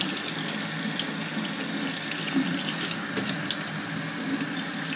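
Cool tap water runs steadily from a faucet over a Clint Eastwood Man With No Name style spaghetti western hat, a constant, close hiss of pouring water with no voices.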